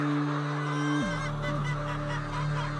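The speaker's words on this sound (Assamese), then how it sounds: "চব গোটেইখিনি বাৰ্ডছ দানা খাবৰ কাৰণে একদম ৰেডি হৈ আছে।" Layer hens in a poultry farm of about 600 birds make a constant close chorus of fowl calls over a steady tonal hum that shifts midway, with no speech.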